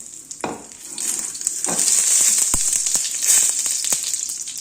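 Whole spices (green and black cardamom, bay leaves) fry in hot oil with a steady, close, bright sizzle, broken by a few sharp clicks of stirring.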